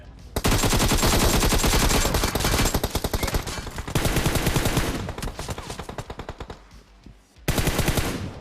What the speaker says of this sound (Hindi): तो जैसे हम सामने घरों पे जाते हैं तभी मेरे पे फायरिंग होती है